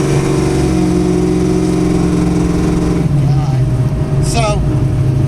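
A cammed 1988 Foxbody Mustang engine rumbles loud and close with a steady, choppy idle, its low harmonic drone continuing as someone talks over it.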